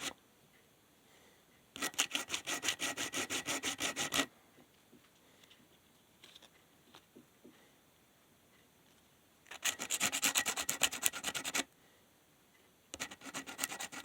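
Guitar wood being sanded by hand with coarse 80-grit sandpaper makes rapid rhythmic rasping strokes in three separate bursts, close and clear, with quiet gaps between them.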